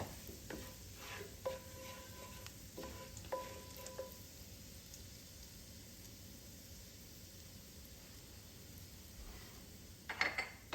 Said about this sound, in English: Get my heat up there a little bit and let that cook for a little while.